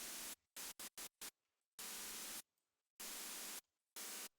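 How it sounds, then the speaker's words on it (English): Randomized, nearly atonal noise from a Serum 2 synth with chorus pitch raised, sounding as loud broadband hiss bursts of irregular length separated by abrupt silences, with no voices. "So now we have this randomized, like barely tonal noise."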